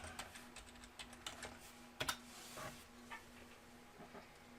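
Faint, quick clicking of keys on a computer keyboard in irregular bursts, with a few louder strokes near the middle and no one talking.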